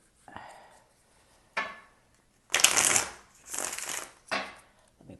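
Tarot cards being shuffled by hand in a few separate bursts of riffling and sliding, close and fairly quiet, with short pauses between bursts and no talking.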